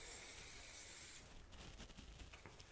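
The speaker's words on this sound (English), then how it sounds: "I just get the fillet and spray it with cooking spray" Cooking spray hisses in one loud continuous burst onto a fish fillet for about a second, then cuts off, leaving quieter rustling and handling sounds.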